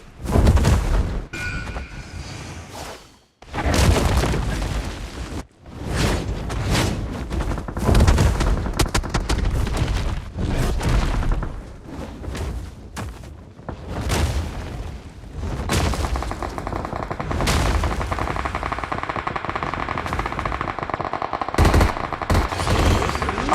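Gunfire in the battle royale game PUBG, loud sustained automatic bursts and fast repeated shots with a few booming hits, close and nearly continuous throughout.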